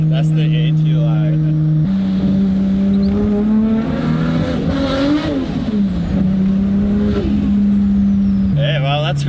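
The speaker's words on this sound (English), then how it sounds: "That's the anti-lag." An anti-lag tuned Nissan R32 GTR running in wet weather, its engine droning loud and close with shifting pitch, rising and falling across the run as the anti-lag system works.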